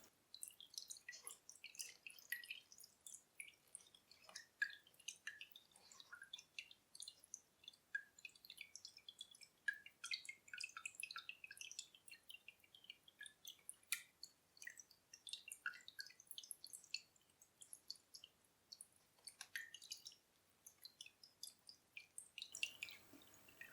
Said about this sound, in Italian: Deve continuare a sgocciolare fino a quando il flusso d'acqua non si riduce a poche gocce.